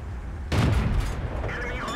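A T37 tank in World of Tanks fires a single loud, sharp shot, and a rumbling tail decays over the following second and a half.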